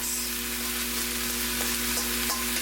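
Ground turkey hits a pan of frying garlic for turkey chili, a loud continuous sizzle with a few soft stirring knocks, no talking.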